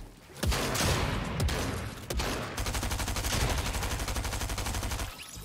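Rapid gunfire in Fortnite Chapter 3, loud bursts and steady automatic fire that carries on for several seconds with brief pauses and cuts off near the end.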